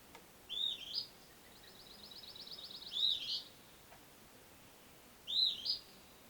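Small birds chirp near a cabin in warm, still weather, giving three bright bursts of tweets separated by a soft trill, fairly faint over a quiet background with no talking.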